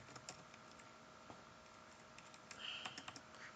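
Keys clatter on a computer keyboard as a title is typed into an Excel sheet, a quick irregular run of soft close clicks that bunches into a denser burst near the end.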